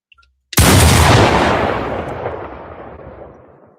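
A boom sound effect fires once, like a shotgun blast or explosion. The sudden, loud burst rolls out into a long, rumbling decay that fades over several seconds, after a few faint ticks beforehand.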